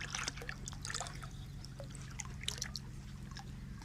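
Fresh water runs and trickles into a cattle trough on a cattle farm, a faint, steady pouring sound under low rumbling background noise.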